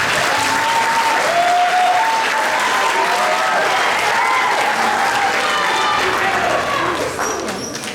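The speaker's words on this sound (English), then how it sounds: "Let's give a round of applause for the students for making it this far." Middle school concert audience applauds steadily for the student performers, a dense, sustained wash of clapping from a large crowd that begins to taper off at the very end.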